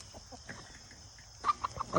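Several chickens cluck softly nearby, with a quick run of louder clucks toward the end.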